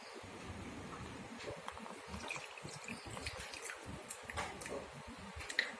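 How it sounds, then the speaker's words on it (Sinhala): Water trickles and pours over chopped dates in a bowl to soak them, a faint, uneven dribble with small splashes throughout. "දැන් මේ රටින්දි ටික වැහෙන්න අපි වතුර දාගන්න ඕනේ."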